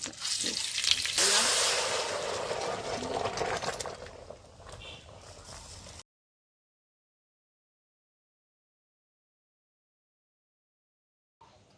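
Dried red chillies and mustard seeds crackle and sizzle in hot oil, loud and close at first, then fading over several seconds before cutting to silence.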